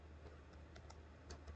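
Quiet typing on a computer keyboard, a short run of soft, irregular key clicks close by against a low background hum.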